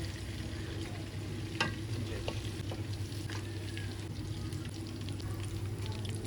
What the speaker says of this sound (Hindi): उसी घी में हमने प्याज को डाल दिया है। तो प्याज को अच्छे से फ्राई कर लेंगे हम।